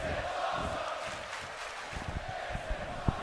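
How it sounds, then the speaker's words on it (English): An arena crowd in a wrestling video game chants and roars in a steady, rhythmic swell, with a few sharper thuds near the end and no voices over it. "Crowd chanting that this is awesome as MESAC is dazed and confused outside."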